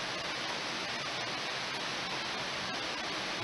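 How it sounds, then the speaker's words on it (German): Heavy rain pouring down during a thunderstorm in Dresden, a dense, constant roar of rain close by with no break across the whole stretch and no talk. "Wie ihr merkt, der Regen ist auch ziemlich krass."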